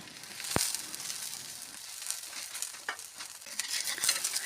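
Aloo paratha frying in oil on a hot tawa, a soft continuous sizzle with a few sharp crackles, close up and without speech.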